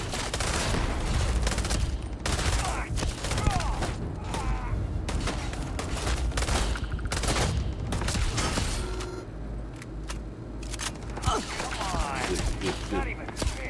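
Rapid gunfire from a Starfield firefight, a dense, loud run of overlapping shots and mechanical clatter that continues nearly throughout.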